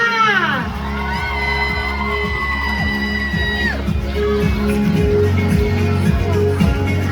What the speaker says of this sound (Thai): ทุกท่านจ๋าขอเสียงปรบมือน้อยกับผู้บริหารพีเอ็นจีหน่อยค่ะ